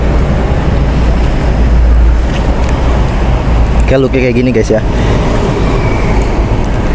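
A Yamaha Vixion motorcycle fitted with a Proliner full-system exhaust rumbles steadily at a low idle-like drone, running throughout while someone talks briefly over it midway.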